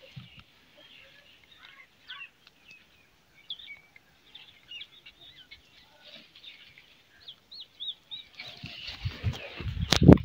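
Pigeons released from their coop give faint scattered chirps, and a louder burst of flapping and rustling comes close by toward the end.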